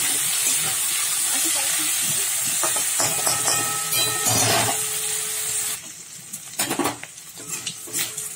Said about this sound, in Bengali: চিংড়ি মাছটা দিয়ে দিয়েছি তেলের মধ্যে।